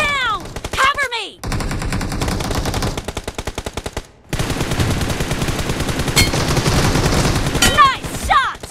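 Rapid automatic gunfire in the BGMI battle royale game crackles loud and close in long bursts, broken by a short pause. Shrill whistling game effects sound at the start and near the end.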